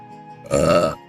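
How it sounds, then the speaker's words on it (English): A single loud, close burp lasts about half a second after a faint stretch of background hum. "And burp."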